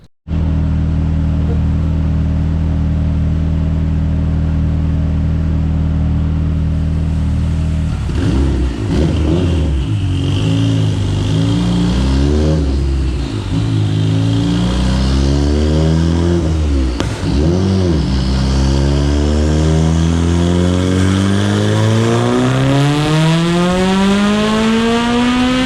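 A tuned 2.4-litre Mitsubishi Evo 9 with Manley rods, Wiseco pistons, GSC S2 cams and Haltech Elite management revs loudly and steadily, its engine note rising and falling through several sweeps before climbing hard at the end.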